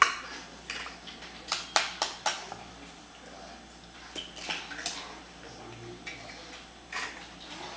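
A child stirs cake batter in a bowl, producing scattered light spoon clinks and taps against the bowl, several close sharp knocks early then sparser ones, with soft background noise and a brief adult voice.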